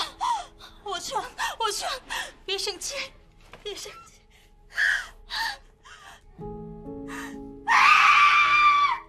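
Young woman gasping, whimpering and screaming after being beaten, breathy sharp gasps and sobs that build to a loud, sustained scream at the end, with music underneath.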